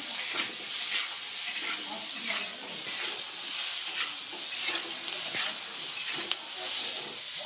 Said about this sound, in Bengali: এবার আর একটু ভেজে নেব